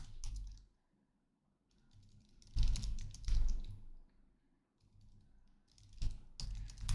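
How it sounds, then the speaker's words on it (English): Fingers typing a gitops command on a computer keyboard, quick clustered key clicks in short bursts separated by brief pauses, close and fairly quiet. "Let me type it all out."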